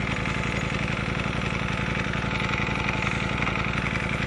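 A Ducati Panigale V4 Speciale motorcycle idles with a loud, close, even engine drone and a fast steady pulse that holds unchanged throughout.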